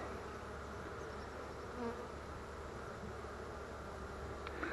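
Honey bees in an open hive during an inspection, giving off a steady, soft, close buzzing drone that carries through the whole stretch with no voices.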